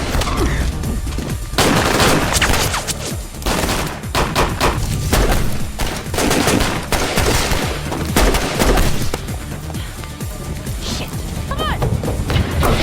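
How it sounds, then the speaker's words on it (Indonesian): A film battle scene with a gunfight: dense, continuous bursts of rapid gunfire, crashes and mechanical clatter fill the whole stretch, loud and chaotic, with voices faintly mixed in. "tiba-tiba muncul satu tembakan dari arah lain hingga pertempuran pun terjadi"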